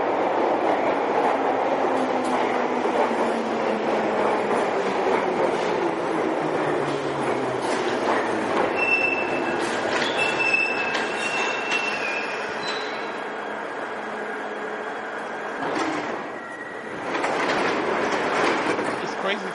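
A London Underground train rumbles along with steady clatter and screeching wheels, metallic squeals and tones rising over the roar before it briefly quiets and picks up again.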